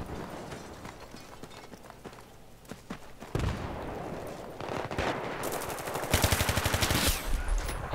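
Gunfire in the video game Battlefield 3 crackles through a busy mix. Scattered single shots build into rapid automatic bursts near the end, loud and close.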